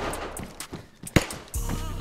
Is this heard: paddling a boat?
no